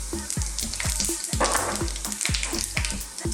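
Whole cumin, cardamom and fennel seeds with a bay leaf sizzling in hot oil for a mushroom and potato curry, a steady close crackle punctuated by regular scraping stirs.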